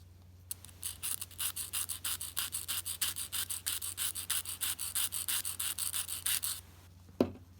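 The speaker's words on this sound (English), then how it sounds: "So what I do is I just file this area here just at a little angle." Nail file rasping across an acrylic nail tip in quick, even back-and-forth strokes, close and crisp, about a dozen and a half strokes in a steady rhythm, then stopping.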